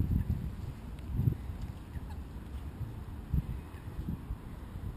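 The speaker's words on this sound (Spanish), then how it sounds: "Son los gansos acá en este lugar." Geese honk intermittently at a distance on a street, a few scattered calls over a quiet outdoor background.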